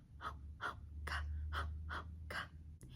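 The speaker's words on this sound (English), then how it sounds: "You should hear swallowing in a rhythmic pattern with periods of rest in between" Close, quiet sounds of a nursing baby: a regular series of about six soft swallows and breaths in an even rhythm over a low steady hum, with no voices.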